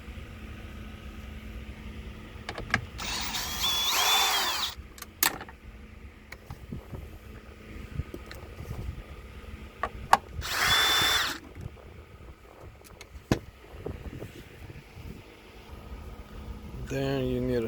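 A power drill whirs in two short bursts to remove the tail light bolts on a Range Rover, close and loud, separated by quieter clicks and handling noise.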